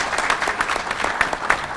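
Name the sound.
someone clapping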